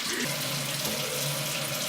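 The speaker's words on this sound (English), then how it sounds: "Probably should have turned the water on first so it got hot." Water runs steadily from a tap while waiting for it to heat up, a close, even splashing rush with no talk over it.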